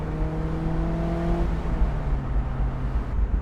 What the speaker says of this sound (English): You can hear the exhaust, you can hear the tires.